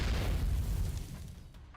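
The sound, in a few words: explosion from direct hit in video game NIKKE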